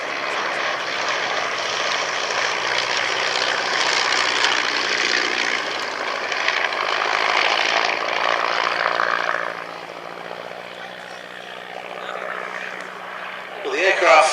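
A vintage aircraft, a gentleman's aerial carriage replica, drones steadily overhead at the Shuttleworth airshow, its engine hum sustained and fairly loud before fading, with a commentator speaking over it.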